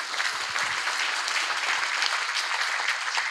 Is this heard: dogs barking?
no